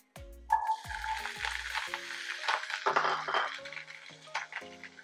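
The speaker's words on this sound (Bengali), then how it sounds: "এবার আমরা এতে অ্যাড করব আমাদের আলু।" Potato pieces frying in hot oil with black cumin seeds in a pan, a steady close sizzle with occasional clinks and scrapes of a stirring spoon against the pan.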